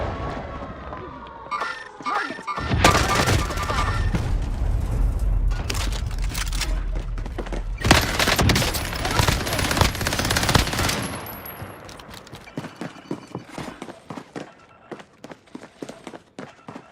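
Enemy gunfire in a first-person shooter rattles in long, loud, dense automatic bursts, fading into scattered separate shots and clicks toward the end.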